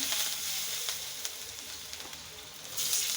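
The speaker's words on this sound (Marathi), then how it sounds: "त्याच्यामध्ये वांगे परतून घेऊया" Brinjal sautéing with salt, masala and coriander in a pan, giving a soft, steady hiss of frying with a few faint stirring taps, close and fairly quiet, swelling slightly louder at the end.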